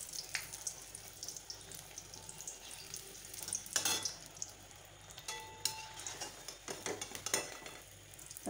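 Malpua fritters made from ripe palm sizzle and bubble in hot oil, a close crackling fry broken by sharp clinks and scrapes of a utensil against the pan.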